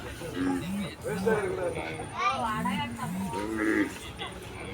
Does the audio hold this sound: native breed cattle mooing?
yes